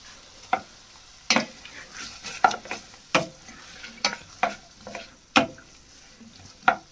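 Lobster cooking in a pan, with irregular sharp scrapes and taps of a utensil against the metal over a faint sizzle, close by and moderately loud.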